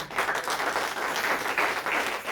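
Church congregation applauding together during a French-language sermon, a dense, steady wash of many hands clapping at close range throughout, with no voices standing out.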